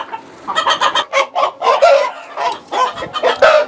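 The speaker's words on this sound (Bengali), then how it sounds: "এই যে মুরগিটা দেখছেন মুরগ এটা হচ্ছে ব্রাহ্মা লাইট" Brahma Light chickens on a rooftop farm cluck loudly and close by, a rapid series of choppy clucks and squawks in irregular bursts with short pauses, continuing throughout with no human voices.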